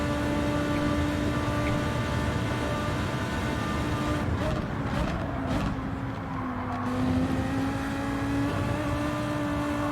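A race car engine drones steadily while it laps the Daytona oval in Gran Turismo 7. The sustained engine tone shifts slightly in pitch, and a brief whooshing pass comes midway.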